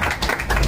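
Short burst of clapping and applause from a crowd at a family 25th wedding anniversary celebration, loud and close, lasting under a second.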